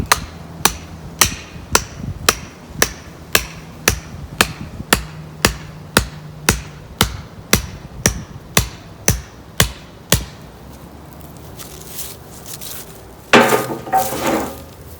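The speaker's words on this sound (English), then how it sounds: "get yourself a hammer and a stake" About twenty steady, evenly spaced hammer strikes driving a stake into the ground ring out up close, each a sharp metallic knock, followed by rustling and scraping once they stop.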